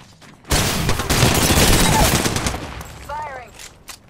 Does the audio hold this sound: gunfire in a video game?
yes